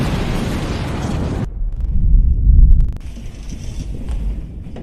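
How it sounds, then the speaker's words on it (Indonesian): A deep, rumbling blast swells and roars for about a second, then fades into gusty wind and a hissing, crackling aftermath. "Ledakan besar pun terjadi"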